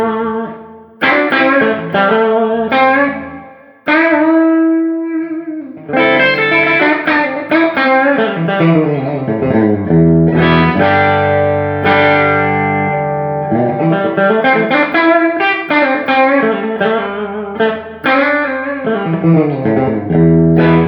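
A heavily distorted Tokai Les Paul electric guitar on its bridge pickup, tone controls fully open, plays sustained chords and riffs, thick and loud with a bright, gritty edge and some reverb.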